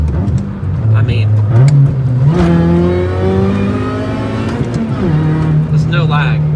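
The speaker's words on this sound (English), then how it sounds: "As much as I love the supercharger and the noise and like the instant power" A supercharged Chevrolet Cobalt SS with a ZZP Stage 1 kit accelerates from inside the cabin, the engine note rising steadily through the revs with a whining supercharger, and a person talks over it.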